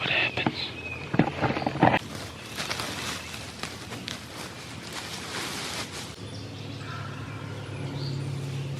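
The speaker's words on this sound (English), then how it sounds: "Now he's gobbling." Wild Kentucky turkey gobbling at a distance on public land near a field edge, several short rattling gobble bursts standing out early over steady outdoor ambience with rustling and footsteps.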